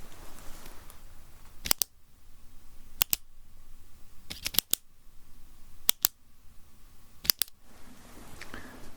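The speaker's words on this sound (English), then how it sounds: "I'm going to make a number of little click sounds like this." Five crisp double clicks of a small object, spaced about a second and a half apart, sharp and close against a quiet background.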